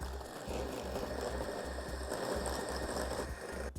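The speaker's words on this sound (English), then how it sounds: "I am going to beat the eggs with the sugar" Egg yolks and sugar being beaten together with an electric mixer, a steady loud mechanical whir running continuously with no talk.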